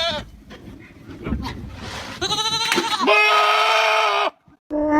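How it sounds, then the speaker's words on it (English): A goat lets out loud, human-like screaming bleats, a few rough cries followed by a long sustained wavering scream that cuts off sharply, then starts again. "The Screaming Goat."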